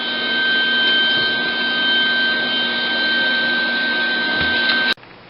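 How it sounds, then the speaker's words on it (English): Steady, loud buzzing hiss of tack welding on a steel welding cart frame, holding without a break for about five seconds before cutting off abruptly. "Just got it all tack welded together."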